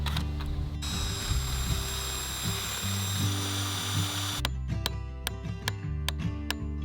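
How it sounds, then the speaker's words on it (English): A power drill bores a hole through a timber joist during caravan renovation work, giving a loud, whining buzz for about four seconds that stops abruptly. A few sharp knocks and clicks follow. "So I'm just drilling a hole through this and that"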